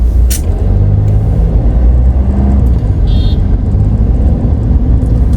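Heavy night traffic on the undivided NH66 highway between Goa and Mumbai makes a loud, continuous rumble of passing engines and tyres, with a brief sharp hiss and a short high tone partway through, and no talk.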